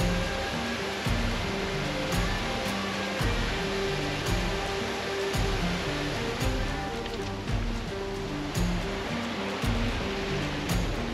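Soussan-Finsan waterfall in the Pyrenees near Vernet-les-Bains rushes as a steady broadband roar, with a repeating low thumping beat over it and a few sharp ticks.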